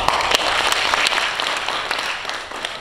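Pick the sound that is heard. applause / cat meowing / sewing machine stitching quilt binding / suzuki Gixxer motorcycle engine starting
applause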